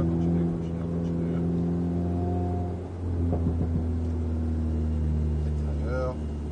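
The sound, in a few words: Alpine car engine accelerating on track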